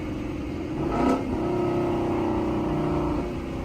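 Car with a Corsa Xtreme exhaust and cat delete pulling in second gear, a brief engine surge followed by a sustained rising drone, fairly faint and short with no talk.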